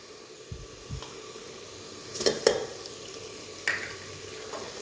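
Ginger garlic paste frying with onions in a pan, a quiet, low sizzle broken by several scraping stirs and clacks of a spoon, close by, no voices.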